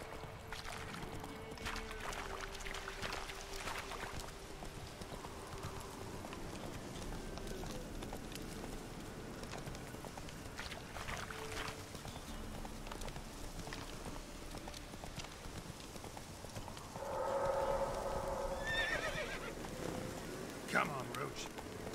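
Hooves of Roach the horse in The Witcher 3 clip-clop at a gallop through the game world, a steady rhythmic thudding under ambient game sound and a voice talking over it.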